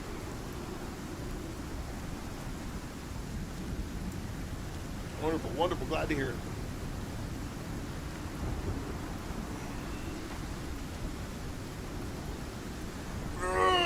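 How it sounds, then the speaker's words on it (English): A storm in the survival video game Icarus sends steady rain and wind noise rushing underneath, with a brief rumble partway through, while someone talks over it. "Sometimes these storms last way too long."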